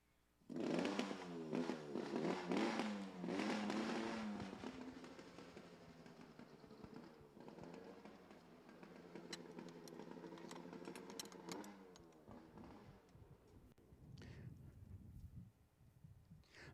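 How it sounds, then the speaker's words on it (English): A classic 1950s B Canadian Mercury 20H outboard engine fires up loud and near, rattling hard, then settles into a steady, raspy running drone. The drone fades toward the end. "what you just heard was a classic B Canadian 20H Mercury engine firing up"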